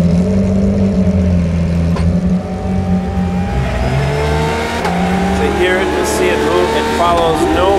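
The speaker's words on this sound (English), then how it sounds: "Speed, revving. Pure 911 racing car." A Porsche 911 GT3 R racing car engine revs loudly and continuously, pitch climbing in long sweeps toward high rpm, with a constant dense mechanical roar and a voice talking over it.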